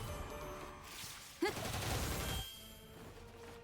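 Sustained rapid gunfire from Zenith in the mobile game Brown Dust 2 during a fiend hunt boss fight, a dense rattling barrage with a sharp burst partway through, loud and continuous.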